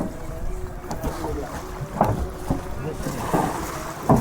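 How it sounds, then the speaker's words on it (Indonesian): Boarding a boat bound for Pahawang, with broadband wind and water noise, several soft knocks and thumps of people stepping aboard, and voices talking in the background throughout. "Oke, saya naik kapal dulu teman-teman."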